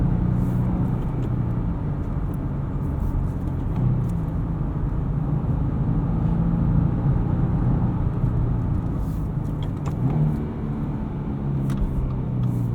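A 2018 Subaru Crosstrek 2.0i Premium with a six-speed manual is driven through bends, heard from inside as a constant low engine and road rumble with no talking.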